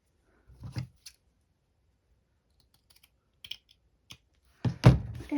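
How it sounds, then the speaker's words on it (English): Scissors cutting coffee-dyed light calico fabric into strips, a few sparse snips and clicks in a quiet room, ending in a louder closer cluster of cutting and handling noise. "This is just coffee dyed light calico, and so I'm just going to cut a few of the same length off."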